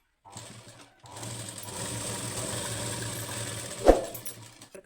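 Sewing machine stitching a blouse lining, running steadily for several seconds with a brief loud clunk near the end, close and clear with no talk.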